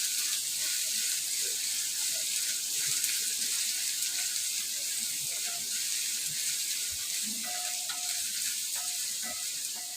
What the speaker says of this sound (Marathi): कांदा वगैरे सगळ्या गोष्टी भाजून घ्यायचा.